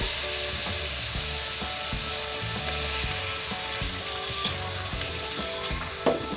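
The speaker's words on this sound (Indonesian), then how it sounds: "Aduk-aduk biar bumbunya merata." Jengkol stew with spices sizzling in a pan while it is stirred, a steady close frying hiss with rhythmic scraping taps from the spoon throughout.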